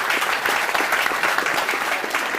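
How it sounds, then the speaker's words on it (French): Steady, dense audience applause at a Tech Week 2022 evening event, many hands clapping loudly and evenly without pause. "Et je vous demande d'applaudir tout de suite, s'il vous plaît"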